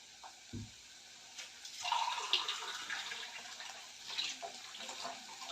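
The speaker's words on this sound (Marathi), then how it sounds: "मध्ये एक ग्लास पाणी घालते" A glass of water poured into a pressure cooker of potato and broad bean vegetable, a splashing, gurgling pour starting around two seconds and continuing with varying intensity, close by and without talk.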